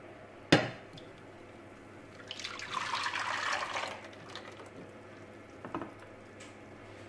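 Far Breton batter with rum-soaked raisins is poured into a baking dish, a soft liquid pouring swell in the middle framed by a sharp knock at the start and light clinks near the end, quiet and close.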